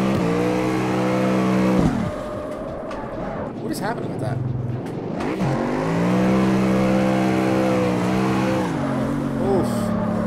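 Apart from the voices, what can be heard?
car engine and tyres while driving in the video game CarX Street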